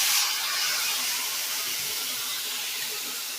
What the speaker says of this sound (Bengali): তো আমার এখানে তেলটা গরম হয়ে গেছে। এবার এখানে আমি এই মাছগুলোকে দিয়ে দেবো।